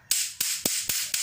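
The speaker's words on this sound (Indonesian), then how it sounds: "Ini petik namanya atau palu kecil" A small hammer for making birdcages taps tiny nails in five sharp, evenly spaced metallic strikes, close and clear with quiet gaps between blows.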